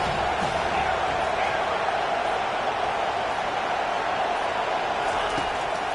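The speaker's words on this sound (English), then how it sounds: "Decibels rising as the crowd gets behind this defense on 3rd down." Broad roar of a stadium crowd in a college football video game, steady and loud throughout as fans get behind the defense on a third down, with no clear voices on top.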